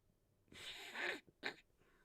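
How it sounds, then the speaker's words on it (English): A person blows their nose during a sports talk recording, two short bursts of nasal blowing, the first longer and louder, the second brief, close to the microphone with no talking. "Just had to blow my nose there."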